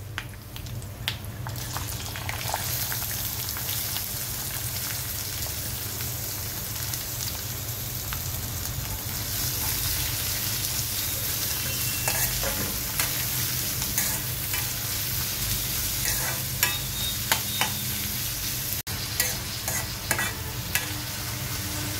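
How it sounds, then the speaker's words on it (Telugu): Ivy gourd pieces fry in oil in a covered pan after a tempering of seeds, dried red chillies and curry leaves, giving a steady, dense sizzle and crackle throughout with occasional louder pops and no talking. "దొండకాయ ముక్కల్ని మూత పెట్టి ఆయిల్లో బాగా ఫ్రై చేసుకోవాలి."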